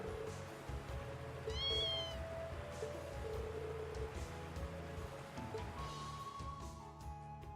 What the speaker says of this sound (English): I guess that kitten kinda scurried away a long distance